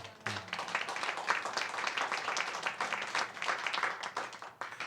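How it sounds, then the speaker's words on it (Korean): Audience applause fills a church service after a sermon, with dense, steady clapping throughout and a faint voice near the start. "박수 한번 해주시기 바랍니다."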